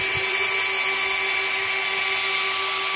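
A power drill whines steadily at a constant pitch, running without pause at moderate loudness with no voices.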